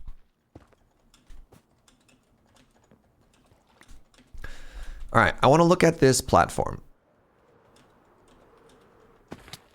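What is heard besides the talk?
typing messages on a computer keyboard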